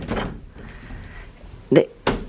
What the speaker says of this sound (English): not a fan of this door because again, this type of door, first two things. One, they're noisy.